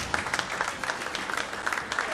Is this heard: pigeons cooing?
no